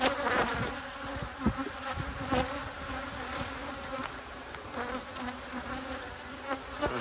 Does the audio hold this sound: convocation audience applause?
no